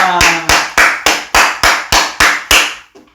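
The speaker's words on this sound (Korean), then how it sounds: "박수." A church congregation claps in unison, about ten sharp, evenly spaced claps in a brisk steady rhythm, loud and close, ending with a faint final tap.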